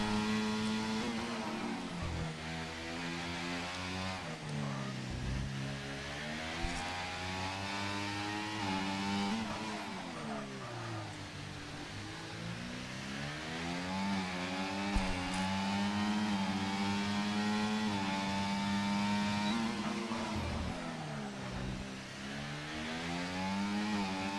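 Onboard race car engine in a sim-racing league event at the Singapore street circuit: a continuous, loud high-pitched whine that climbs and drops repeatedly through gear changes, heard alone with no talk.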